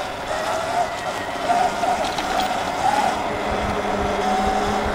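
A gas-powered scooter running at full throttle: a loud, steady engine drone that holds close and constant, with a voice briefly heard under it.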